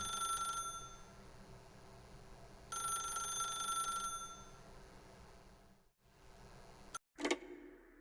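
A telephone rings in The Stanley Parable video game, two long electronic ring bursts separated by a pause, fairly close and clear over a low ambient hum, followed by a brief click.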